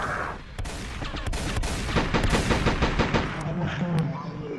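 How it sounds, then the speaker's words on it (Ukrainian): Rapid bursts of video game machine-gun fire rattle loudly in quick succession, with a few sharper single shots at the start and end. "кулемет реально стріляє як кулемет"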